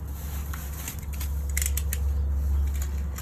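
Scissors snipping through the twine on a hay bale at a horse rescue, a few quick close crisp cuts and rustles over a low steady background hum.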